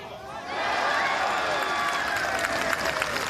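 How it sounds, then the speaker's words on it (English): At a women's professional golf championship final round, the gallery breaks into sustained applause and cheering for a putt, a broad crowd roar that swells and holds with a commentator's voice over it. "Deserved the cheer."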